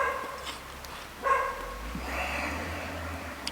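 A dog barks and yips in the background outdoors behind people, a few short calls at moderate distance over a low steady rumble.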